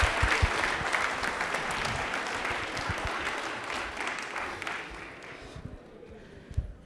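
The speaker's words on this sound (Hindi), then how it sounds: "तालियां एक बार मुखर्जी साहब के लिए जोरदार होनी चाहिए" Studio audience at a televised quiz show applauds a contestant for a correct answer, dense sustained clapping that gradually thins and fades toward the end.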